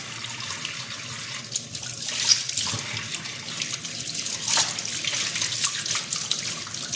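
Hands are rinsed under a running tap at a sink after a ten-minute hand treatment, a steady close stream of water with light splashing shifts as the hands move.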